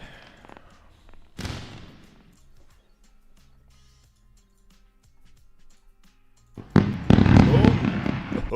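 A fireworks sound effect: a sharp crack, a quiet stretch, then a loud, dense burst of crackling explosions near the end.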